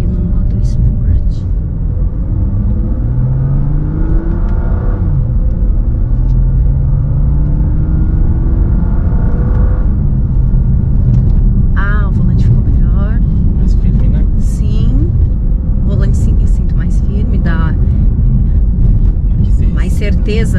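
A BMW M4 CS in Sport mode gives a deep, steady cabin engine drone with gradual revving sweeps underneath, while two people talk over it almost throughout.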